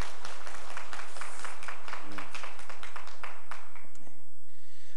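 A church congregation in a Korean service claps to welcome a newcomer, a burst of steady, fairly close applause that thins out near the end.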